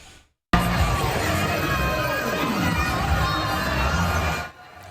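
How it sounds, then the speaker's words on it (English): A large crowd greets Santa Claus's arrival at River Park Square with loud, sustained cheering, children's shouts and whoops, beginning abruptly after a brief quiet moment. "Santa Claus had his big arrival today at River Park Square. Quite the crowd to welcome him."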